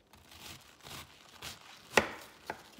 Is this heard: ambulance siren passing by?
no